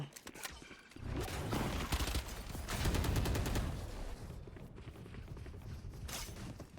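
Gunfire in a Valorant esports match, with rapid bursts of shots and mechanical clicks that rise and fall across the clip, fairly faint and without commentary over it.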